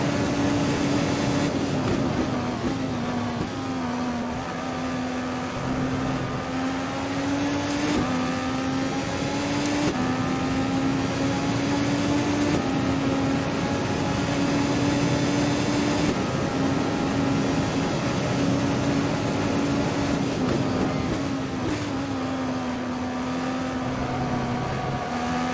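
A modded IndyCar engine in a racing video game at Rio drones loudly and continuously, its pitch stepping down and climbing again through repeated gear changes over about twenty-five seconds, with no voices.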